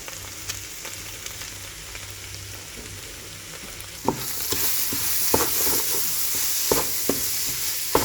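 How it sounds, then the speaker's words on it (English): Tomato paste frying in a pan with browned meat for Bolognese sauce, a steady sizzle that swells into a louder, brighter hiss halfway through, broken by a few sharp stirring scrapes and knocks. "Now we're going to add close to 100 grams of tomato paste."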